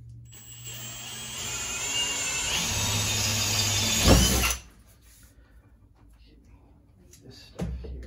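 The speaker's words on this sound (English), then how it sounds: "So now we're going to drill through this side" A power drill whines as it bores through a metal sign. The steady, rising grind runs for about four seconds, then cuts off abruptly, followed by quiet and a faint clunk.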